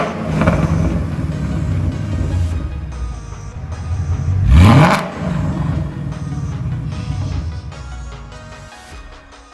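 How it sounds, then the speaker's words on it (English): A Ford Mustang V8 fitted with LTH headers rumbles steadily, then one sharp rev swells loud and rises in pitch midway before settling back to a lower burble. "besides the car sounding amazing"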